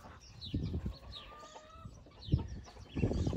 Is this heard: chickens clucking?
yes